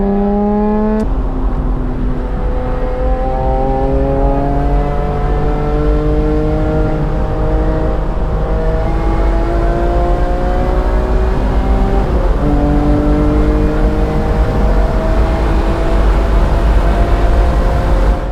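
BMW E46 M3 engine revving hard on a race track, its pitch climbing and dropping repeatedly through the gears, loud and close, with a sustained onboard drone and no talking.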